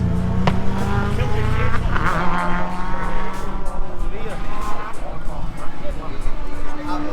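Race car at the Knockhill circuit in Scotland, a loud continuous engine roar with tire squeal, close by, with voices talking over it.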